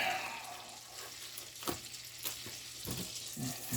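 Food fries in a hot skillet with a low, steady sizzle, punctuated by a few sharp clatters and scrapes of stirring up close.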